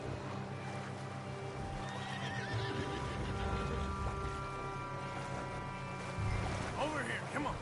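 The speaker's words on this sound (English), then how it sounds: "The horses are confused. We need to round them up." Horses neigh and whinny repeatedly over a steady background of hoofbeats and movement, loud and close, with no voices speaking, in the video game Red Dead Redemption 2.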